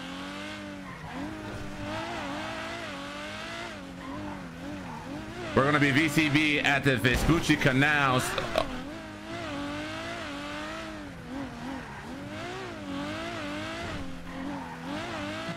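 Car engine revving with tire squeal and skidding during a chase in the game GTA, steady throughout with a louder burst of screeching midway, heard under near-constant speech.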